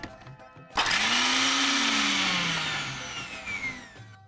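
An electric mixer jar roars to life and grinds green peas with hot green chillies, a loud close whirring burst after a short quiet start that dips in pitch as the blades load, then winds down near the end.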